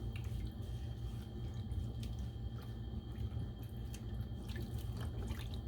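Dyed yarn being rinsed in water, with soft continuous dripping, sloshing and squishing at close range, faint and steady, no talking.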